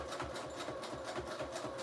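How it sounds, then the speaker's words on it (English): A sewing machine runs steadily, stitching around the border of pieces on a handmade bohemian journal, its fast rhythmic needle clatter close and continuous with no voices. "You could just glue them and then sew around the border"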